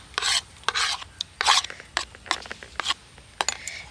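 Mango jelly being stirred into a raw mango dessert, giving repeated short rasping scrapes in irregular bursts, close and fairly loud with no talking.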